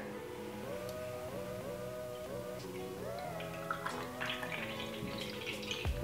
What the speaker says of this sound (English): Let's go ahead and pour some Blue Moon in here.